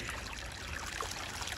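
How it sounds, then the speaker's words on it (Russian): Water of a small stream trickles and murmurs steadily in a quiet February countryside setting in southern Germany, a soft continuous burble heard alone without talk. "просто наслаждаться тишиной. Журчанием воды."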